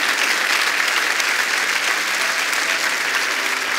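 Loud, steady applause fills a church during a preaching conference, a dense continuous clatter of many hands clapping with no pauses, close and enveloping throughout.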